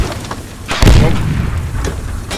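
A tank cannon fires in the military game Squad, one heavy, close boom that lands sharply and rolls off into a rumbling tail, with faint talk before it.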